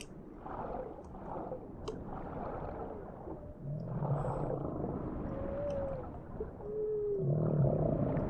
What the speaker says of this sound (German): Ein Wal!